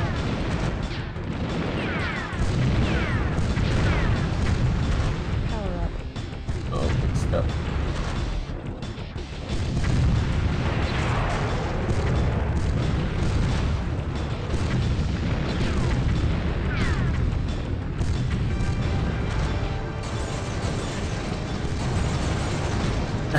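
Tank cannon fire and explosions from the N64 game Battletanx boom repeatedly over a continuous rumbling engine drone, dense and loud throughout, with a voice talking over parts of it.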